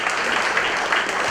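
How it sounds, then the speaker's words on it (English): An audience at a business lecture session applauds, a dense, steady burst of clapping heard alone at close range. "A big round of applause for Mr. Farook."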